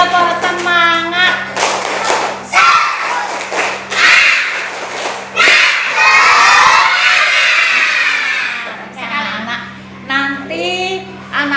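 A class of children performs a rhythmic clapping chant for spirit, patterned claps mixed with shouted chanting and cheering voices, loud and close over a steady background hum.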